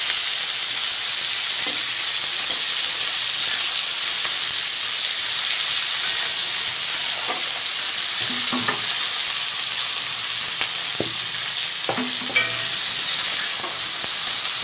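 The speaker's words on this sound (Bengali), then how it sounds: "লাল করে আগে পেঁয়াজটা ভেজে নিয়ে তারপরে মাংসটাকে ছাড়বো।" Onions and a couple of cloves fry in hot oil as the base for a chicken curry, giving a steady, loud sizzle throughout with occasional soft stirring scrapes and clicks.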